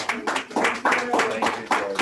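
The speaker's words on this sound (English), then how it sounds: "It was the sound of Americans clapping." Newly naturalized citizens clap at a naturalization ceremony, a steady patter of hands mixed with voices and a brief spoken thanks over it.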